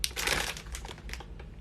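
A resealable plastic bag crinkles and crackles as someone struggles to open it, a dense close rustle that is loudest at first and continues in bursts throughout.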